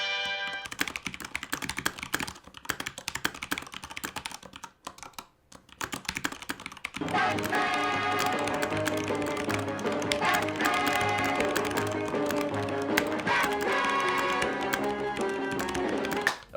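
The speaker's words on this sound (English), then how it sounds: "I will point the mic at the keyboard so you can hear the speed switches" Fast typing on a Corsair K95 Platinum mechanical gaming keyboard with speed switches during a typing test, close-miked. Sparse keystrokes at first give way to a continuous, rapid clatter of key presses.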